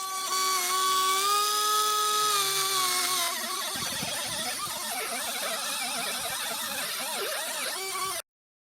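A handheld rotary tool polishes the ports of motorcycle cylinders from a Yamaha RZ350 with white jeweler's rouge, a steady high-pitched whine that drops in pitch partway through and continues as a rougher, grinding buzz until it cuts off.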